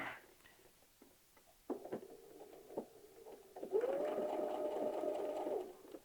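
A sewing machine stitches straight down the center of an easy quilt block, starting with a few faint clicks and taps, then running in a steady, moderately loud whir for the last couple of seconds.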